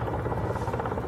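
An attack helicopter hovers over a war zone, a dense, steady rotor thrum with continuous low pulsing, loud and unbroken throughout.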